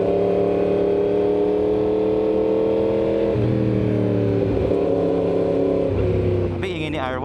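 A loud Yamaha R1 sport motorcycle engine idles and revs nearby, its pitch shifting as the throttle is blipped, with a brief higher whine near the end.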